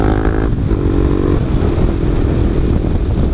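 Motorcycle engine running steadily and loud throughout, with a rough broadband roar and a brief higher-pitched rev at the start.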